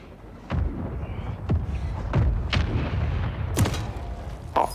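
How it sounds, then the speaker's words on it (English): Mortar strike explosions in Warzone 3: a series of about six heavy booming impacts at irregular intervals, each a sharp thud with a rumbling tail, fairly close and loud over low background noise. "Friendly mortar strike on the way."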